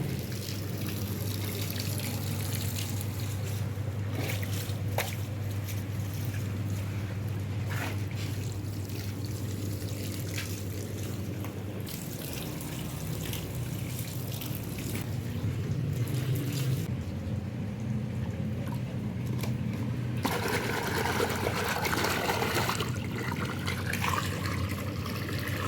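Water pours steadily into a tub to which Comfort fabric softener has been added, a continuous, close, splashing rush with no speech over it.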